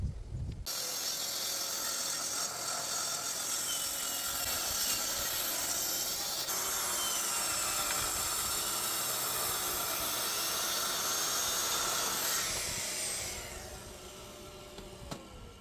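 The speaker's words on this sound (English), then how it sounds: "We'll run these to the planer down the bottom while that's doing that" Wood planer running boards for a farmhouse table build, a steady loud whining hiss and mechanical whir sustained for over ten seconds, then trailing off as the board finishes, with no talk.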